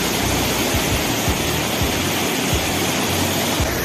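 Floodwater pours over a bridge in a loud, continuous rushing roar, close and unbroken, with no voices over it.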